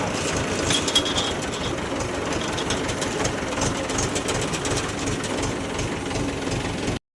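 A tractor engine runs steadily in a farm field while spreading fertilizer, giving a continuous low rumble with a faint knocking texture that stays close and even throughout.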